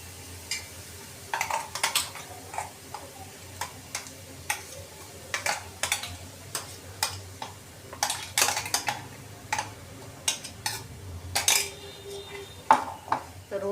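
Metal spoon scraping and clinking against a bowl while masala is stirred into a ground paste for tawa bhindi masala, a steady run of sharp close taps and scrapes with soft background hum.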